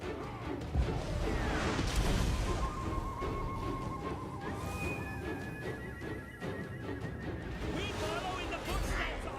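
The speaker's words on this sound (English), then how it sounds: "There goes a horse." Horse neighing amid the clash of a Total War Warhammer battle, with crashes, impacts and battle noise underneath, and someone talking throughout.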